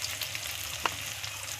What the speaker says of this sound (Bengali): ভালো করে আলুগুলো ভাজা করে নেব।